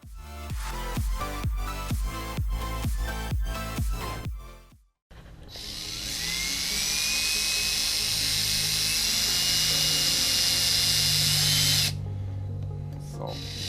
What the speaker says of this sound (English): then we'll be drilling, what is that, 5 holes?